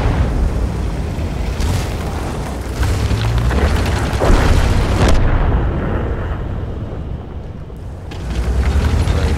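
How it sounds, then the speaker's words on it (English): Booming artillery shell explosions in the World of Tanks tank battle game, loud and rumbling, one heavy blast swelling after another over a continuous roar of battle noise. "There's the artillery."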